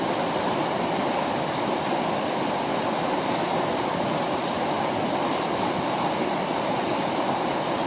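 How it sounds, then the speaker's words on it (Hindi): Steady rushing river water with a broad, constant roar, flowing close by; no voices, just continuous noise throughout. "दरिया का शोर"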